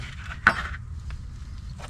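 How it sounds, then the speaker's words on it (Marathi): A metal wrench knocks once against the inside of an oil drain pan while searching for a dropped drain plug nut, giving a sharp close clank followed by a few faint scraping taps. "पाना आत टाकतो आणि शोधतो."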